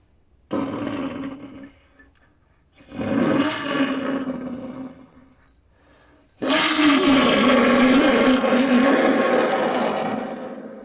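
A pututu conch shell trumpet from Chavín de Huántar is blown to imitate a feline roar. Three deep growling blasts sound alone, the last one longest and loudest.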